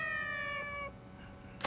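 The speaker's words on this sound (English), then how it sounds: "Meow." A cat meows in the video game Yakuza 4, a single clear, tonal mew lasting under a second, followed by quiet game ambience.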